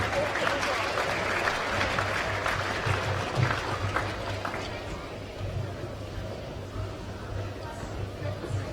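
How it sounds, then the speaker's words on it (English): Arena crowd applauds during the WNBL basketball grand final awards presentation, sustained clapping and chatter that gradually fades while an amplified voice carries over it. "Why don't you give them a large round of applause?"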